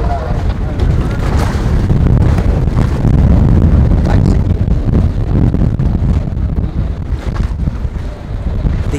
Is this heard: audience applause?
no